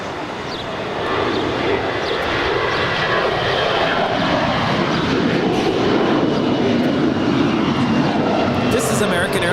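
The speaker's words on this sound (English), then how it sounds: "This is American Airlines Flight 481, departing to Philly. It's a 21-year-old Airbus A321." A 21-year-old American Airlines Airbus A321 departs LAX for Philadelphia, its jet engines producing a loud, sustained roar that builds slightly early and then holds steady.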